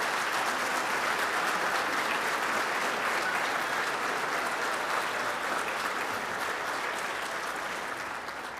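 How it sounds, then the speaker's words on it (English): Dinner guests at a charity program give sponsors a round of applause, a dense, even wash of clapping from a large crowd that holds steady and only slightly eases at the end. "So let's give another round of applause for our specialty provider sponsors."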